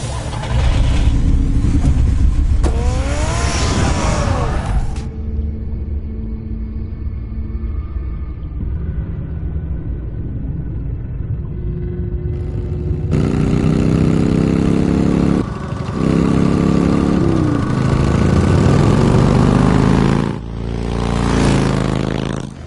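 In the video game Batman: The Telltale Series, a car engine rumbles loudly, driving and revving with shifting pitch, then drops to a quieter idle before surging again with scraping bursts, no voices.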